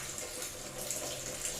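Tap water runs steadily into a container for laundry beside an old washing machine, a constant close hiss and splash with no talking.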